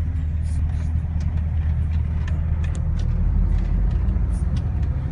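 A heavy truck drives across a railway bridge in Russia, its engine droning deep and constant up close, with light rattles and clanks from the road surface scattered throughout.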